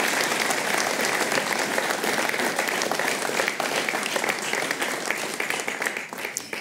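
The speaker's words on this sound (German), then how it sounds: "Herzlich willkommen. Applaus" A studio audience at a televised discussion on democracy claps to welcome a guest speaker, dense, even applause that holds steady and then thins slightly toward the end, with no voices.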